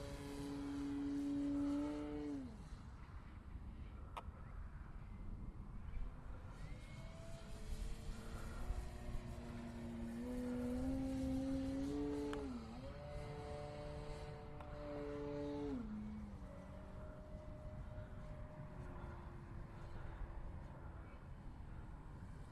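Hangar 9 20cc Valiant RC airplane flying overhead, its gas engine droning steadily with pitch rising and falling as it passes and turns, moderately distant with wind noise throughout.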